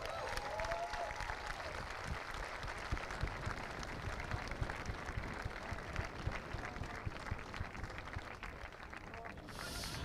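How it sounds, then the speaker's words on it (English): Crowd applause at an Irish drift series event, a steady wash of clapping sustained for around ten seconds at moderate distance, with no clear speech over it. "I want to hear a huge round of applause."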